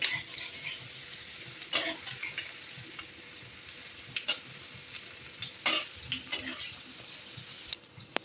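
Papad-wrapped potato singaras deep-frying in oil, heard as a faint steady bubbling sizzle broken by scattered pops and crackles, with soft voices in the background at times.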